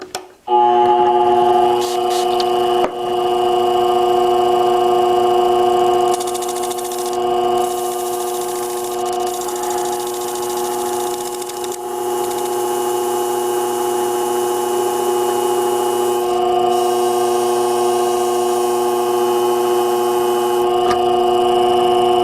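A Bonika fishbone shear being sharpened, with a loud, steady mechanical whir and sustained hum that runs almost unbroken throughout and dips slightly near the middle.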